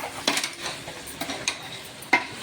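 A spoon clinks and scrapes against a pot while chicken biryani is stirred and mixed, a few distinct metallic knocks spaced unevenly over soft background noise.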